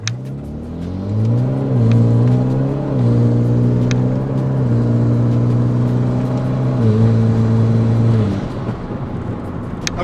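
A Hyundai Veloster Turbo pulls hard from 0 to 60 using paddle shifters, engine note climbing steadily with distinct drops at each upshift, loud and close from inside the cabin, no talk.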